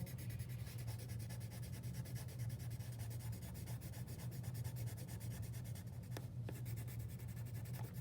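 Soft, steady scratching of colored pencil on paper, close and quiet, with continuous back-and-forth strokes and no talking.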